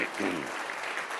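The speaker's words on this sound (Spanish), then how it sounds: "Dale un aplauso al Rey bendito." A church congregation applauds during a Spanish-language sermon, a steady burst of clapping from many hands lasting about a second at moderate loudness.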